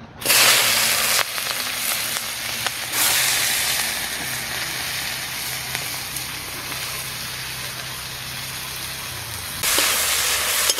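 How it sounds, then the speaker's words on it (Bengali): Chopped onion and green chili frying in hot oil, a loud, steady close sizzle throughout with bursts of stronger crackling at the start and end, no talking. "পেঁয়াজটা আমি একটু 2 থেকে 3 মিনিট নেড়ে ছেড়ে ভালো করে লাল করে ভেজে নেব।"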